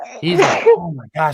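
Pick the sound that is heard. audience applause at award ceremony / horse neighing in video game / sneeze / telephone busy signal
sneeze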